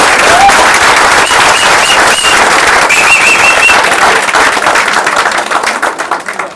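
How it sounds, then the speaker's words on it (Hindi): Loud, sustained applause from a theatre audience after a Hindi stage play, dense clapping filling the room and thinning slightly toward the end. "एक बार जोरदार तालियां।"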